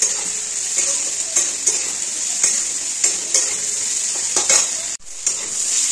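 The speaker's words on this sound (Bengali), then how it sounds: "এটাকে নাড়াচাড়া করবো" Vegetables with chopped green chillies stirred and frying in a pan: a steady sizzle with repeated scraping strokes of a spatula against the metal, close and clear, with a brief pause near the end.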